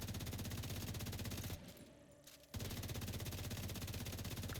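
Sustained automatic gunfire from a shooter game, The Division 2, rattles in a rapid, loud stream against enemies, cutting out for about a second midway before resuming just as dense.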